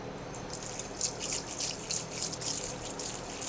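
Tap water runs into a kitchen sink while items are rinsed for a cultured butter recipe, giving a fairly quiet, continuous splashing with soft bursts as the stream hits the items.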